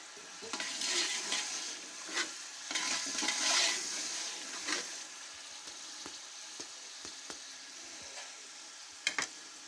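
Spices stirred into Kabuli pulao with roasted chicken in a pot, a steady sizzling fry with scraping stirs and short clicks of a spoon against the pot, fairly close, with no voices.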